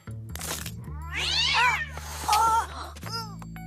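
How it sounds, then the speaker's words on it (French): A cat meows in a hallway, giving two drawn-out, rising-and-falling cries close by, with a soft thump at the end and no talking. "Je crois qu'il y a du bruit dans le couloir. Ça doit être juste le chat."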